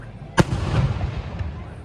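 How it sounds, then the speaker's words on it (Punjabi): A single loud firework boom bursts nearby at a village fair in Italy, followed by rumbling echoes and faint crackling while people murmur in the background. "ਚੰਗੇ ਪਟਾਕੇ ਚਲਾ ਦਿਆ ਇਸ ਤਾਂ"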